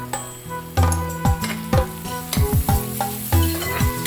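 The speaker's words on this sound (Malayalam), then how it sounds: "അരിഞ്ഞ പച്ചമുളകും ഇട്ട് ആവശ്യത്തിന് കറിവേപ്പിലയും ഇട്ട് ഒന്ന് നല്ലപോലെ ഇളക്കാം." Ginger, shallots, green chillies and curry leaves fry in a pan for an Onam ginger curry, with a steady sizzle under repeated scraping stirs and clinks of the spoon, close and continuous.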